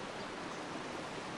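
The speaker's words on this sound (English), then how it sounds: "hopefully we don't have the sound of the overpowering waterfall" A waterfall in The Sims 3 produces an even, dense rushing hiss that fills the whole moment at a constant level, with no speech.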